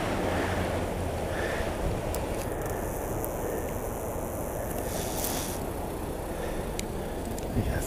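The clear-flowing Uda River: a steady, broad rush of water over a wide wash of noise, continuous and moderately loud from start to finish.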